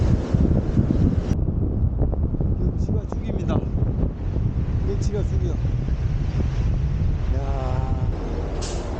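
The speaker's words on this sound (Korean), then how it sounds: "오늘은 바람도 좀 불고 해서 더 파도가 많이 치겠지만은 어휴 파도가 무섭네" Strong wind roars across the microphone at a Sydney harbour national park lookout above the ocean, with waves blending into the steady rush while someone talks over it.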